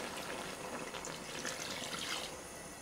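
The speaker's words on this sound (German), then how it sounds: "Dann gießen wir das Ganze mit dem Fond auf." Stock being poured into Soljanka soup in a cast-iron Dutch oven, a steady liquid pour and splash running continuously and close.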